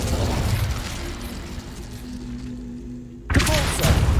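An Incendio fire spell blast in the Hogwarts Legacy video game: a rumbling, crackling flame roar with low thuds that fades briefly, then a sudden loud burst erupts near the end.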